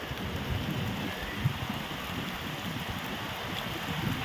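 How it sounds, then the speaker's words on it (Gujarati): Heavy rain falls over an open farm field in a steady, dense patter with low rumbling underneath, even and unbroken throughout, with no voices. "અહીંયા ફૂલ વરસાદ છે"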